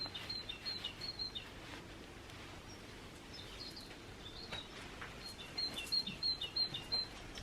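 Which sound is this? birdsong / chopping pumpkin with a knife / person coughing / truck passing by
birdsong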